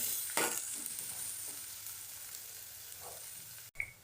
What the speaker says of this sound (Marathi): एक मोठा कांदा बारीक कापून घेतो तो टाकून कांदा चांगला भाजून घ्यायचा